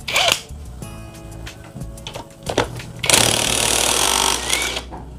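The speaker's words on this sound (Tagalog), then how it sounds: "So gagamitan natin siya ng impact wrench." A pneumatic impact wrench rattles hard as it removes the magneto puller nut on a Honda Click 150i scooter during a top overhaul. Short mechanical clanks come first, then one loud sustained hammering burst that stops abruptly.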